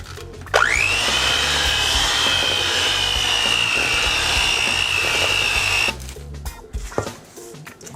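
An electric mixer beats dry ingredients into oatmeal raisin cookie dough. It starts sharply with a loud, steady high whine, runs for about five seconds, then stops, leaving faint kitchen clatter.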